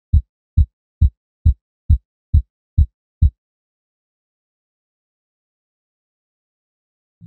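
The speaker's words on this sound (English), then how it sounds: "We can feel and hear our heartbeat." A human heartbeat thumps eight times in a slow, even rhythm, each beat a soft, close, low thud, followed by several seconds of silence and a faint low sound at the very end.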